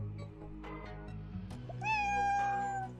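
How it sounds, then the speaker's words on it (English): A cat in a video game meows softly once, a drawn-out mewing cry rising over a low, steady ambient drone and game music, with no talking. "You hear the cat meowing softly."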